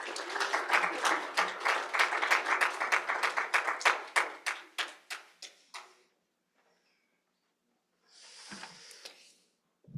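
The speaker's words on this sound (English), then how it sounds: "Please give her a round of applause." A short round of clapping from a small group at a poetry reading that thins out and fades to silence, followed later by a brief soft rustle.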